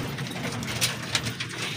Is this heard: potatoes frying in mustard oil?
no